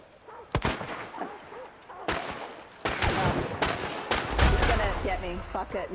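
Several sharp gunshots crack out in a first-person shooter video game, spaced irregularly and fairly close, mixed with game noise and players talking over the fighting.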